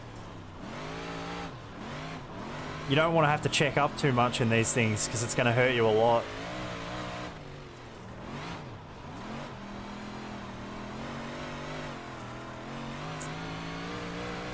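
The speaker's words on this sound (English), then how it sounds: "The motor kind of labors up a bit" A modified race car from the iRacing sim, 358 or big block class, its motor laboring and revving through a burst of climbing engine sweeps, with steady engine drone throughout under continuous talking.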